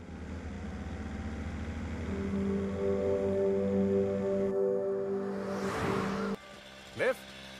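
A car being driven on a trip back to a hometown, a steady engine and road rumble with tonal hum, ending in a brief sharp transient; background music or voices may sit underneath.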